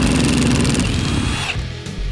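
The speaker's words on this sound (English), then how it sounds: "Now we're gonna remove the seat belts by continuing to use our 14mm socket." A power tool with a 14mm socket runs loudly up close, removing the seat belt bolts in a Toyota Tacoma, a continuous whirring drive that winds down and stops near the end.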